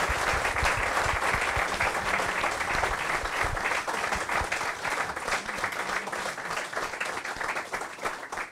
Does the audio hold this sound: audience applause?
yes